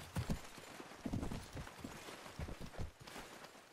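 Horse hooves clip-clop in the video game Mount & Blade Warband during a Trojan War battle, a quick uneven run of thudding steps, fairly soft and without talking.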